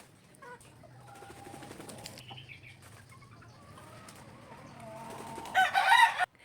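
Young cockerels and chickens let out of a brooder on a small farm crow and cluck, with wing flapping growing louder toward the end, nearby and lively.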